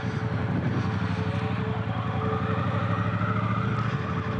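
A Triumph Bonneville Bobber motorcycle rumbles under way with a loud, steady engine note and wind rush, its pitch shifting slightly as the rider holds the throttle.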